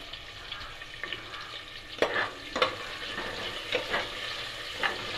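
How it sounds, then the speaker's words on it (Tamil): Onion and green chili sautéing in a hot pan for veg biryani: a soft continuous sizzle with several sharper bursts as the spoon stirs, close and fairly quiet, no talking. "வெங்காயம், பச்சை மிளகா இதை லைட்டாக வதக்கிக்கலாம்"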